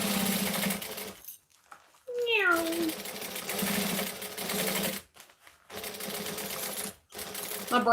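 A human voice imitates a cat's meow with a single rising-falling mew, set against the steady whir of a sewing machine running before and after short pauses.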